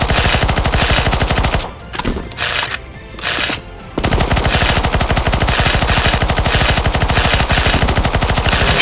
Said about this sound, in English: Shoot the boss, you gotta shoot the boss.